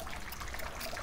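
A small squirt bottle sprays water onto a flower in a brief, faint hissing spritz with a soft dribbling trickle.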